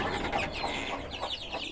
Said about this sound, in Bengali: আজকে মুরগির বাচ্চাগুলো খাবার দিয়ে নিই।